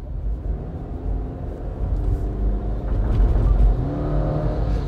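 A 2022 Subaru Forester engine rumbles low and steady, building slightly in the second half as it accelerates, heard from inside the vehicle.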